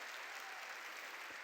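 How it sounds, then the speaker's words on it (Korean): A church congregation claps together in a dense, continuous burst of applause that fills the space evenly for a brief moment, with no voices standing out. "깨달은 사람만 박수 치라고."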